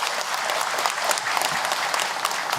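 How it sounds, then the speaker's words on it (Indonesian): An audience claps steadily through a religious lecture, with dense, sustained applause at an even level and no speech over it. "Tepuk tangan untuk beliau yang bertanya."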